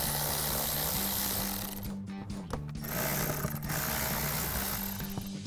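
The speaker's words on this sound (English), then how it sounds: "now we are going to take our clamps off for our air box and our throttle body" A ratchet works the 7mm bolts on the air box clamps of a gas Chevrolet Silverado 2500 truck: quiet, close mechanical clicking and rattling with brief pauses and gentle metallic handling sounds, no talking.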